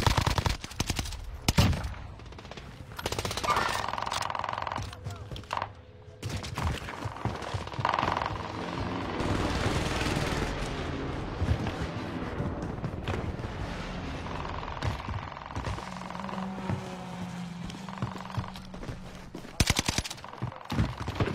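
Gunfire in Call of Duty: Modern Warfare 2 beta multiplayer: repeated loud bursts of automatic fire and single shots run almost continuously, with brief pauses and some background game noise.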